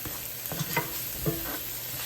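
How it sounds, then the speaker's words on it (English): Onions and chopped garlic being stirred in a cooking pot for tomato soup, with a few soft scraping strokes of the spoon over a low steady sizzle, close and fairly quiet. "Give this a stir."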